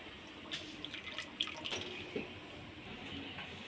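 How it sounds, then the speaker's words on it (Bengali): Banana leaves lifted one by one out of a basin of water in a home kitchen, soft splashes and trickling drips close by, with a steady faint hiss underneath. "এখন আমি এরকমই জল থেকে তুলে নিচ্ছি"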